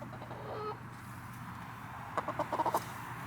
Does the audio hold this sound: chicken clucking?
yes